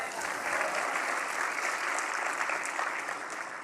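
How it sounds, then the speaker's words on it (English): A church congregation applauds steadily, a dense, even wash of clapping from many hands that holds at the same level for several seconds before easing slightly at the end. "You don't know him, but clap for him anyway."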